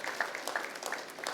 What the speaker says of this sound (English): I want you to give them a round of applause to say thank you.